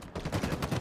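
Rapid gunfire from the Halo video game during a high school esports playoff match, a short dense burst of several close, punchy shots in quick succession.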